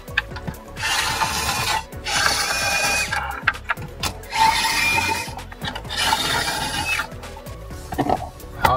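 Four screws being backed out of a car stereo head unit during a DIY audio repair, giving repeated rasping, ratcheting turns in bursts with short pauses, fairly close and loud with no talking.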